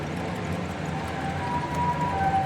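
An ambulance siren wails steadily at a fairly loud level with a continuous rising tone, set against a dense background of street noise and no talking.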